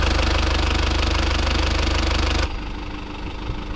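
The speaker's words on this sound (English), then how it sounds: "right now I'll be starting the vehicle and showing you the sound of the vehicle. So you can just check out the engine sound." A 2018 Tata Xenon DLE 4x2 pickup truck with a 3.0-litre Dicor diesel engine, 35,000 km driven, idling with a steady loud knocking rumble that drops to a quieter, softer idle partway through.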